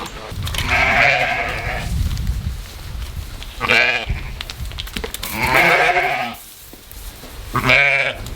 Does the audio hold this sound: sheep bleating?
yes